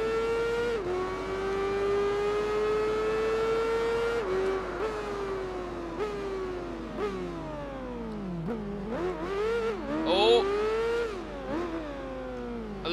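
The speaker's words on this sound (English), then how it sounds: "We have a super powerful racing bike right now." Engine of a powerful racing motorcycle in the Tourist Trophy game, a continuous high-revving whine that climbs and drops sharply through gear shifts and braking, loud and close with no talk.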